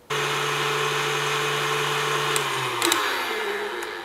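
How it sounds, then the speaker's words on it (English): A stand mixer whips heavy cream with a steady, loud motor drone that holds for about two and a half seconds, then drops in pitch as it slows, with a couple of faint clinks near the end. "I'm using my stand mixer, but you can certainly use electric beaters or hand beaters."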